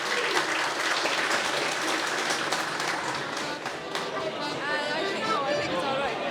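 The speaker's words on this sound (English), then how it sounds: "Big round of applause." Applause from an audience at a bicentenary celebration, dense steady clapping with some crowd chatter mixed in, sustained at a fairly even level across the whole stretch.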